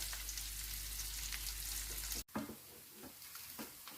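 Potatoes fry in hot oil with a steady, dense sizzle, briefly cut off by a sharp break before the crackling resumes more softly.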